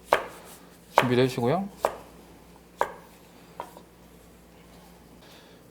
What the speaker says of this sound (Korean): 양배추도 면하고 똑같은 크기로